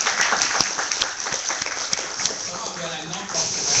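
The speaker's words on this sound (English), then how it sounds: "Can you clap?" An audience claps at a startup community event, a fairly steady round of applause with a voice talking over it.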